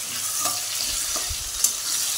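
Potatoes fry with turmeric in a pan while being stirred, a steady close sizzle punctuated by soft scraping and a brief clink of the utensil.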